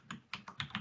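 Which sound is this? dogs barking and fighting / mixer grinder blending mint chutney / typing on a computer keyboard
typing on a computer keyboard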